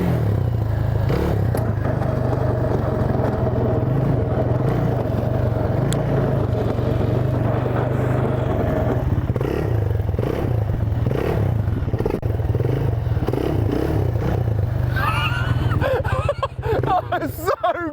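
An electric motocross bike, either a Sur Ron or a Cake, rolling along on a wheelie bar: steady motor whine with clattering and scraping, close and loud, ending in excited voices.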